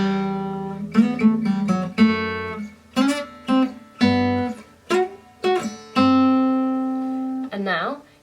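Single guitar notes of a riff played slowly in a lesson, each note plucked separately with short gaps, close and clear, about a dozen notes with one sustained note near the end.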